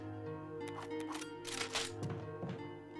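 Weapon reloading in a Resident Evil video game: several mechanical clicks and clacks over a few seconds, close and moderately loud, set against a steady tonal music drone with no talk.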